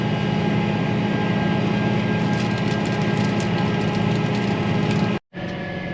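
A John Deere tractor engine running while planting corn in the field, a loud continuous drone with mechanical rattle, steady throughout before a brief cut near the end.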